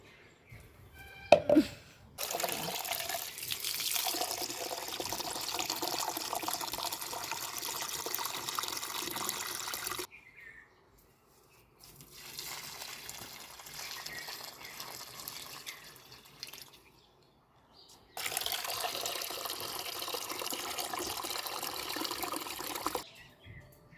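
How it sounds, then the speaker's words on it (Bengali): Water poured over household plants, steady splashing and trickling in three long bursts separated by brief pauses, close and moderately loud, with no talking. "চলো গাছগুলো জল দিয়ে নি"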